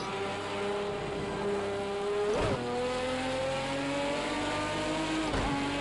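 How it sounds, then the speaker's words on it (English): A racing car engine in the video game Project CARS 2 drones steadily at high revs, its pitch climbing slowly with brief dips at gear shifts, loud and continuous. "I just love hearing the sound of this car. It's actually one of the prettier sounding engines."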